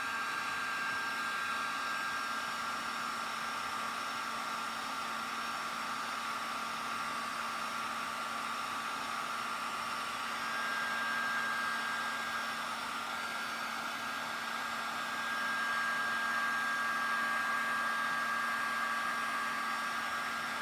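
A heat gun runs steadily on its low heat setting for the whole stretch, giving a constant close whooshing airflow with a steady motor whine and no talking.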